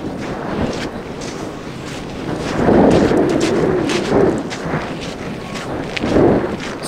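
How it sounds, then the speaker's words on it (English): Strong outdoor wind buffeting a microphone in a small Arctic town, a continuous low rumble swelling into heavier gusts, loud and close with no talking. "So the wind is pretty strong, as you'll probably pick up in the mic."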